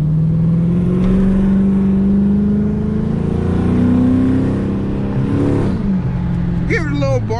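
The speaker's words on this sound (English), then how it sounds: "I'm gonna open the exhaust up for y'all real quick." A car engine rumbles loudly and revs, its pitch rising and falling through a throaty exhaust, close by; a voice briefly speaks near the end.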